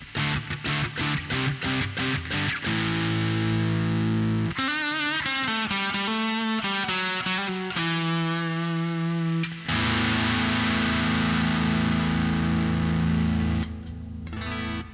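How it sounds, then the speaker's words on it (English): A Harley Benton DC Junior electric guitar runs through a RAT-type distortion pedal, opening with rapid chugging palm-muted stabs, then moving into a sliding riff and long sustained, heavily distorted chords, loud and close throughout. "And then with a rat type distortion,"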